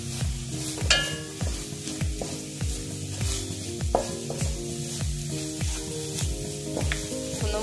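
Turmeric and fennel powder frying in a pan, close sizzling with repeated rhythmic stirring scrapes and taps of a spoon against the pan, no voices.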